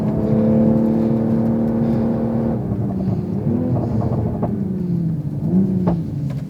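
A Toyota Supra's six-cylinder engine sings while driving on a mountain pass road, a strong steady tone that dips and rises as the revs change through corners, heard from inside with no speech.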